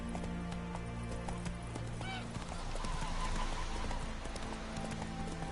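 The horse Roach gallops in Witcher 3 with quick, rhythmic hoofbeats, steady and fairly near, a short whinny rising in the middle and a voice talking over the run.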